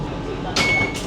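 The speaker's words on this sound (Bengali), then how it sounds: "স্বয়ংক্রিয় দরজা আস্তে আস্তে এরকম খুলে গেল।" Automatic door of a Vande Bharat sleeper train opening at a station, a brief airy hiss and whir under a steady hum of train ambience.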